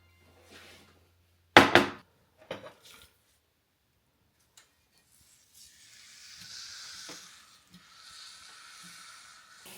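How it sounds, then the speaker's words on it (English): Sage leaves dropped into a pan of warmed butter, a sharp clatter followed by a few knocks, then a soft rising hiss of frying building over the last few seconds. "I'm going to now put it over in this pan of already warmed butter"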